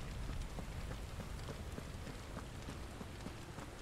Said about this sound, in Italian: Madonna, sotto la pioggia.